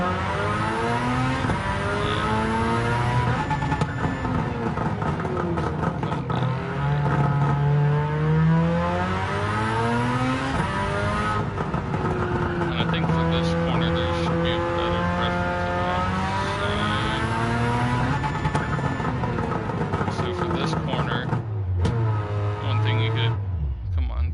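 A race car in Gran Turismo 7 laps the Nürburgring GP circuit at about 700PP, its engine revving high and sweeping up and down through the gears, loud and continuous, with someone talking over it.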